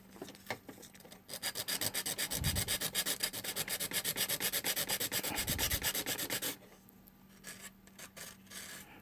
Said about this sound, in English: So right now I'm just sanding the shape down.